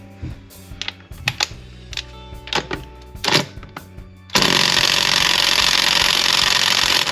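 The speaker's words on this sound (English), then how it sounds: "So, the stick ratchet, much faster speed." Several light clicks and taps from a Kobalt cordless stick ratchet give way to a loud, steady mechanical whir as it runs at full speed for about three seconds.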